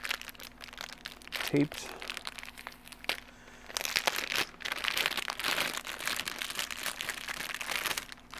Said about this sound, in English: Let's open this pasta up.